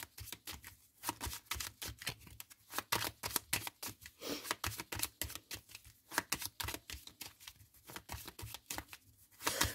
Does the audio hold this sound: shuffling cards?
yes